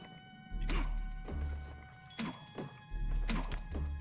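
Arrows shot in The Wind Waker video game strike objects with hollow wooden thunks, four distinct impacts spaced about a second apart over soft game music.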